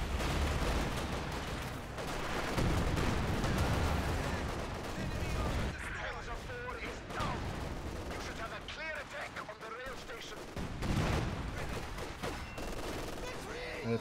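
Video game gunfire rattles in dense, sustained bursts of rapid shots and booming blasts, loud and continuous for the whole stretch, with voices talking over it at times.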